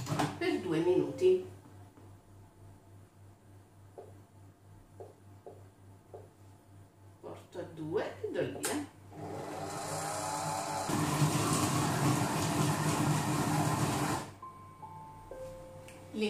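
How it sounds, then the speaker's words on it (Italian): A Monsieur Cuisine Connect food processor kneads donut dough with a loud, steady mechanical churn lasting several seconds, preceded by scattered clicks and handling noises in a kitchen. "Dopodiché vado ad impostare la funzione impastare per 2 minuti."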